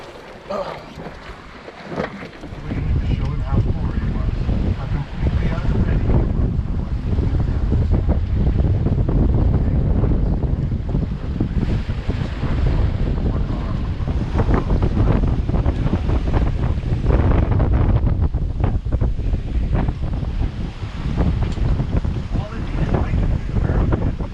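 Strong wind of 25 knots gusting 28 roars loudly and continuously across the microphone on a sailboat in the Pacific, mixed with rushing water and creaking, sustained for the whole stretch.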